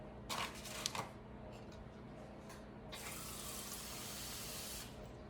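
Water runs from a kitchen tap to fill half a cup for chicken enchiladas, a steady close hiss and splash that starts with a short burst, pauses, then flows on continuously to the end.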